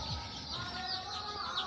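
Chickens cluck and fuss briefly over a steady noisy background, with no one speaking.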